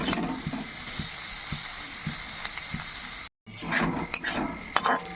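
Prawns fry slowly in plenty of oil for an egg omelette, a steady close sizzle with occasional stirring clinks and utensil taps against the pan, briefly cut off before the sizzling resumes.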